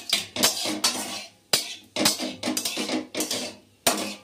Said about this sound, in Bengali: ফোড়নটা একটু 2 সেকেন্ড 3 সেকেন্ড মতো নেড়ে নিলাম।